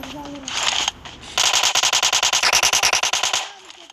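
Video game gunfire: a brief burst of shots, a pause, then a long rapid automatic volley lasting about two seconds, loud and close.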